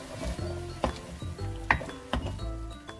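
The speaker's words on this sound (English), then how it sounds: "I'm going to add my sauce and mix everything together." A utensil clinks against a pan as cooked vegetables are mixed with sauce for a vegetarian pasta, giving a few bright metallic taps over a steady musical background.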